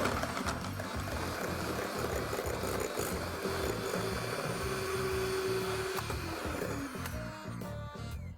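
An electric whisk beats eggs with dark brown soft sugar in a bowl, its motor whirring steadily and fairly quietly throughout, with a rhythmic rattling of beaters against the bowl and no talking.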